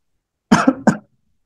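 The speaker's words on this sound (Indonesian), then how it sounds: "Tadi subuh batuk saya kumat lagi." A person gives a short cough in two or three quick, close bursts, alone against silence.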